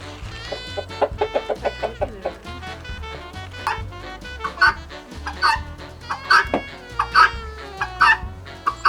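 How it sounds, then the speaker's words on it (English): Guinea fowl calling along a Route 66 roadside stop, a run of loud, rhythmic clucking cries that repeat in quick bursts and then turn harsher and more scattered, close by with no talking. "I thought that sounded like a guinea fowl"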